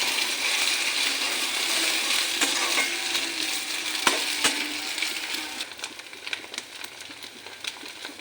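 Malabar spinach being mixed with turmeric and salt in a hot pan: a steady sizzle fills the first half, then eases into irregular scraping and clinking stirs of a spatula, with no voices.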